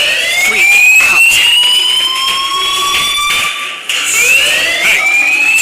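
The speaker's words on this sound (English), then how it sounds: "do you hear that fire alarm? That means you should be outside." Fire alarm in the video game Life is Strange, ringing loud and steady in repeated high electronic tones that continue throughout, with a brief dip partway through.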